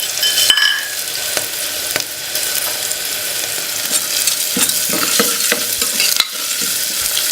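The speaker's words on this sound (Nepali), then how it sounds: "अब म यसमा भटमास राख्छु।" Soybeans frying with browned onions in a pan, stirred briskly: a loud, close sizzle with repeated sharp scraping and clinking strokes of the spoon against the pan, no talking.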